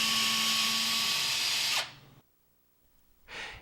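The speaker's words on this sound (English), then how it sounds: "drill the two mounting holes" A power drill with a 3/32 inch bit bores the two mounting holes for a garage door opener wall station into wood framing, a loud steady whine for almost two seconds that cuts off, followed by a short burst near the end.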